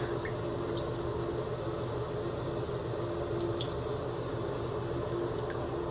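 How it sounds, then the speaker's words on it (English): Steady running water from a tap poured over a bathroom faucet, a constant even rush with faint drips and squishes on top. "put on some water, fill up the cup, and just kind of pour it over there"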